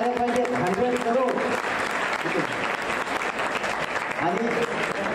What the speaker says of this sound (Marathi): तेवढ्या टाळ्या झाल्या पाहिजेत.